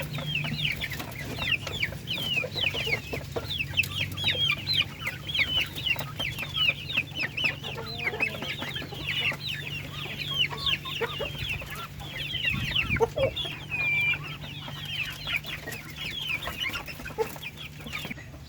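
Native darag chickens cluck and chatter steadily while pecking at fallen saresa fruit outdoors, a busy flock of overlapping short calls with a low steady hum underneath and no talking.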